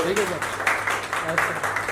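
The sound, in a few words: audience applauding a production designer at a film event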